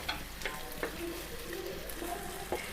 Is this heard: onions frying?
yes